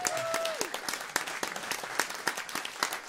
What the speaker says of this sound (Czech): prosím, ještě potlesk jednou pro Marka Potěšila jako primáše